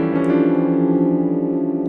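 Piano grace notes played with the sustain pedal held down, ringing together into a blurred, messy wash of sustained tones that fades slowly over about two seconds, with no talk.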